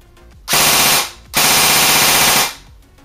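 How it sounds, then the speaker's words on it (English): A WE M4 airsoft electric gun fires on full auto in two loud, close bursts, a half-second rattle followed by a longer, sustained buzzing stream of rapid shots, with no voices. "pretty good trigger response, rate of fire with full auto"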